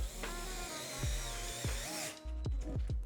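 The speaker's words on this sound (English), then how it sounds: "I'm just screwing it directly into the wood." A DeWalt gyroscopic cordless electric screwdriver whirs in several short bursts, pausing between pulls, as a screw is driven directly into wood at close range without a pilot hole.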